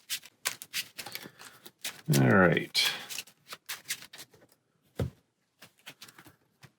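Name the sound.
shuffling a deck of Marvel Champions cards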